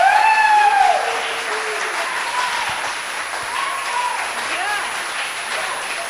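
A church congregation applauds steadily for several seconds, with a few whoops at the start, the clapping holding at an even level before easing slightly.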